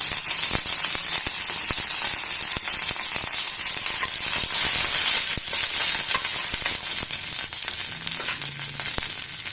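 Curry leaves crackle and sizzle loudly in hot coconut oil with popping mustard seeds, a dense steady frying hiss broken by sharp snaps, close up with no talking.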